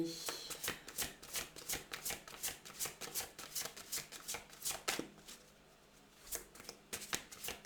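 A deck of unicorn oracle cards shuffled by hand, heard as a rapid series of crisp, close riffling slaps in an even rhythm with short pauses between runs.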